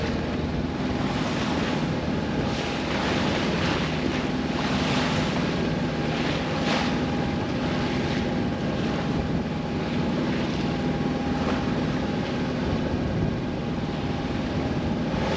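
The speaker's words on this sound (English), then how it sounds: "now we're out here in these serious like big ocean swells" Wind roars and big ocean swells wash steadily around a boat crawling slowly down the coast of Oahu toward Honolulu, a loud continuous rush with no talk.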